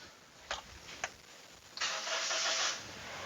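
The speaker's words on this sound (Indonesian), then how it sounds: "Satu kali aja startnya langsung hidup, langsung nyala." A 2014 Toyota Innova 2.0 petrol manual cranks with two short clicks, then catches on the first try and settles into a steady, hissy idle, heard close up with no talking.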